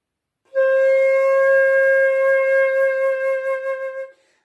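A single sustained flute note on C, played with a bamboo-tone fingering, breathy and steady, held for about three and a half seconds with a slight wavering fade at the end.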